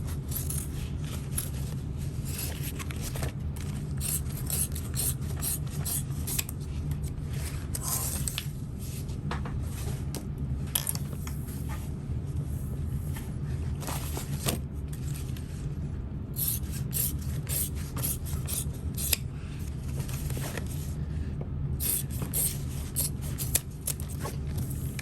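Scissors snip repeatedly through excess fabric while a knapsack is being sewn, a close, quiet run of crisp cuts with brief pauses between bursts and no talking.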